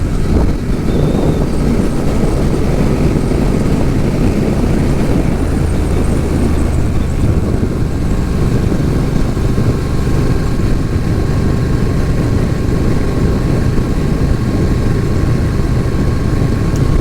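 Motorcycle engine on the road in winter in Florida, rider short shifting through the gears; a loud steady drone with wind rush throughout, with a shift in engine note around six to eight seconds and no talk.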